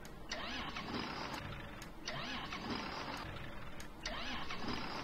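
A John Deere 7710 tractor engine in a video game cranks and starts, with a repeating starter churn in three pulses before catching, close and steady.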